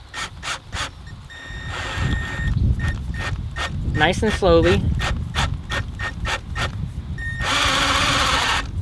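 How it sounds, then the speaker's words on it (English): A drill with a spade or Forstner bit bores a hole into a wooden passthrough stair post, giving repeated close rasping, scraping bursts in a steady rhythm, with someone speaking briefly midway. "drilling out this hole"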